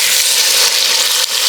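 Tomatoes drop into hot garlic-infused oil in a pot for Italian lentil soup, giving a loud, close, continuous hiss of frying that stays steady, with a slight dip near the end.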